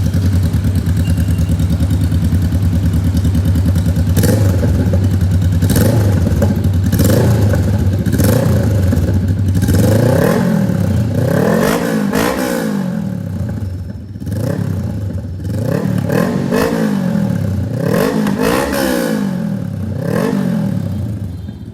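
A Honda Rebel 500 motorcycle exhaust idles loudly up close, then revs repeatedly in rising and falling throttle blips over a deep rumble.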